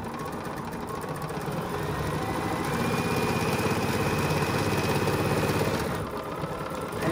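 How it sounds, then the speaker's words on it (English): A sewing machine runs steadily, stitching a quarter-inch seam through four layers of fabric with a dense, even mechanical whir, close and continuous, then briefly changes near the end as it back tacks. "And I'm just gonna simply stitch a quarter of an inch through all four of these"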